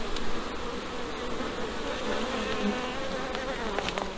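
Honeybees buzzing steadily in an opened split hive, a dense continuous drone close by with a few faint clicks of hive handling, no one speaking.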